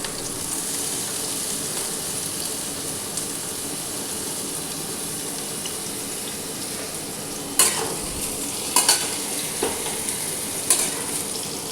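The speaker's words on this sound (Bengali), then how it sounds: "বেগুনগুলো হালকা ভাজবো, তারপরে বাকি সবগুলো দিয়ে দিচ্ছি।" Eggplant pieces fry in a pan with a constant, even sizzle, while a few sharp scrapes and knocks of stirring break through in the later part, with no talking.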